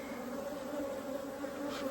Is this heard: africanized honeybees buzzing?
yes